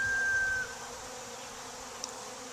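Honey bees buzz around an opened hive during an inspection, a steady, fairly close drone that is louder for the first half second, then settles into a softer continuous hum.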